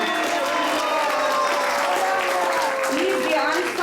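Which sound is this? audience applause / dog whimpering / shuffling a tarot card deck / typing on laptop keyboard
audience applause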